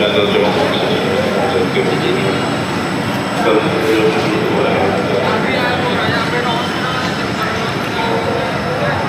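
Dhaka metro rail train running toward its last station at Uttara North, a loud continuous rumble and wheel roar heard from inside the carriage for the whole stretch.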